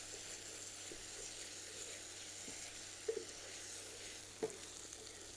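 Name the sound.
tomato being sautéed with spices in oil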